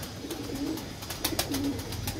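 Pigeons cooing softly in the rain, a few low repeated coos spread over a steady patter of rainfall, fairly faint and with no voices.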